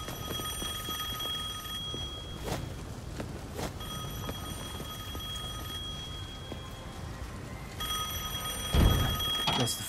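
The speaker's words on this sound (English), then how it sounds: "Guess the phone still works." An old telephone rings in Devil May Cry 5 with repeated bursts of a bright metallic bell trill separated by short pauses, loud and close, while heavy thuds and game noise sound beneath it.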